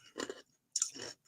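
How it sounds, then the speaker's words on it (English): Ice being chewed close to the mouth, two quick crunching bursts separated by a short pause, fairly quiet. "I'm chewing ice."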